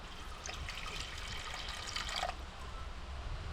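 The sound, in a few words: water being poured into a cooking pot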